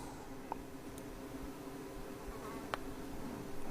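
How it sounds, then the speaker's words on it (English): A housefly buzzes around a room during an electronics repair, a faint steady drone with a few brief close passes, quiet and without talk. "It's an annoying fly in here, as you probably just heard, it buzzing me."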